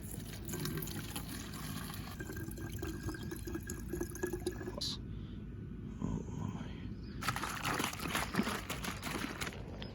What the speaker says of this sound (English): So I'm gonna fill this up with some water.